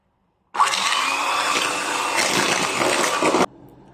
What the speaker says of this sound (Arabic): غادي نخلط هاد البيض والسكر والفاني مزيان